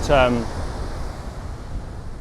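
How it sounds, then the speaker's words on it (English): Ocean waves crash against a rocky shoreline in a continuous low, rushing wash mixed with wind, steady and fairly loud, with a brief voice at the very start. "the waves are just creating an amazing formation as they crash against the shore"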